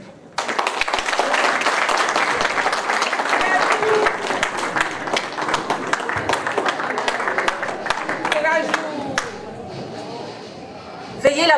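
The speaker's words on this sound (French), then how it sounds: "Veuillez l'applaudir quand même." Audience applause at a welcome to a French-language conference, dense clapping lasting most of the stretch before tapering off, with speech emerging over the fading claps at the end.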